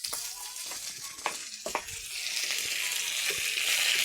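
Small local chanda fish fry with spices in a pan, giving a steady sizzle broken by scraping stir strokes, growing louder and hissier toward the end.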